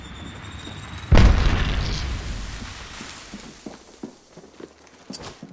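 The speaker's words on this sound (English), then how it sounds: "Look out, grenade!" A grenade goes off in Apex Legends on Nintendo Switch with a sudden, loud, close boom whose rumble decays over a couple of seconds, followed by light footsteps and small clicks.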